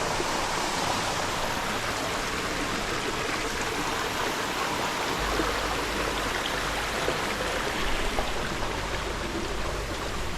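An orange-stained stream runs through acid mine drainage near the Ohinemuri River. It makes a steady, close rushing and babbling wash of water, with no one talking.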